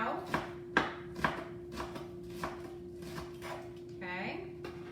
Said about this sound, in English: So I'm just gonna lightly cut the onions up